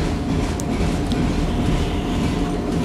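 From inside a moving train carriage, a loud, constant rumble of wheels on the rails continues throughout, with faint clicks and brief high squeals over it.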